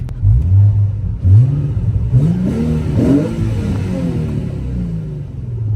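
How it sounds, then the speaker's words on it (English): A V6 car engine with aftermarket intakes and catback exhaust revs up several times in deep, throaty bursts, rising and falling in pitch, close by with no talking. "we'll give it a few revs and you can hear that glorious, glorious V6"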